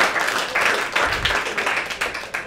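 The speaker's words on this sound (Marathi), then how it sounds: "एवढ्या टाळ्या एम्फॅटिकली वाजवायची गरज नव्हती." An audience clapping at a Marathi stand-up comedy crowd-work show, a lively burst of mixed handclaps and cheering from the room, fairly loud and close.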